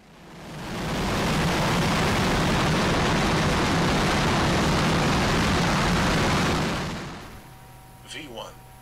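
An airplane engine roars at full throttle during takeoff in a Minecraft machinima, a loud, broad, sustained rush that swells in, holds steady for several seconds, then drops away sharply and leaves a quiet hum.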